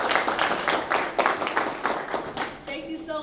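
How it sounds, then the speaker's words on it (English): An audience at a panel discussion gives a speaker a round of applause. The clapping is dense and fairly close, with a bumpy rhythm, and dies away near the end as a voice begins. "Let's give her a round of applause."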